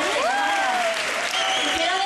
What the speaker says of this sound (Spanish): Y quiero pedir un fuertísimo aplauso